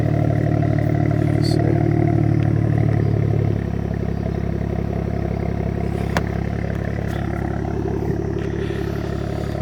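A BMW F30 335i with a Valvetronic exhaust and the valve open idles and rumbles steadily, loud and close. The deep, throbbing note eases slightly partway through, with occasional clicks and no voices.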